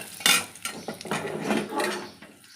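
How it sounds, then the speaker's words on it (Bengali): Sweet potato payesh being stirred in a very hot pan with raisins, bay leaves, sugar and nuts: a run of clinking and scraping of a utensil against the metal pan, several distinct knocks followed by continuous rustling scrapes, close and fairly quiet. "এটা একটু নেড়ে নেব।"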